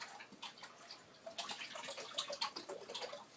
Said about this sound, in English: I'll pour it in the new water